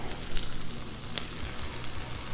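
Oil and butter sizzle on a hot Blackstone griddle in a brief, dense, steady hiss heard close and alone.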